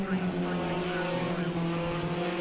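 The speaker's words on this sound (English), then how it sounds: "Going around the last corner. Onto the power, try not to let the car squirm too much onto the straight." A race car rounds the final corner of a championship circuit and gets back on the power onto the straight, its engine droning loud and steady with close, sustained harmonic whine and no talk.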